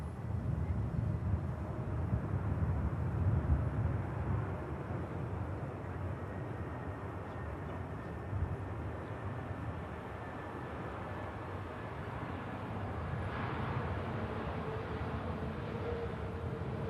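A Ryanair Boeing 737 MAX 8-200 airliner touching down on the runway: a steady broad roar of engines and rushing air at a distance, continuous and fairly even throughout, with no talk.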